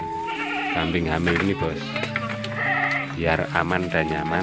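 A pregnant goat in a quarantine pen bleats loudly several times, its wavering calls mixed in and overlapping with someone speaking Indonesian nearby.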